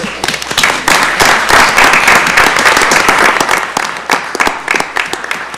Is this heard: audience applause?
yes